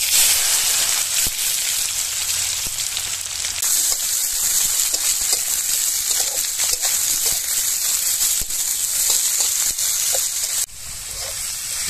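Chopped garlic sizzles loudly in hot oil with cloves, cardamom and cumin in a village kitchen, a steady dense frying hiss with occasional stirring scrapes throughout.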